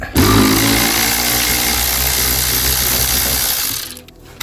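A powered ratchet undoing a T30 Torx screw on a Ford Fiesta MK8, whirring loudly and steadily at close range for about four seconds before it stops, with no talking.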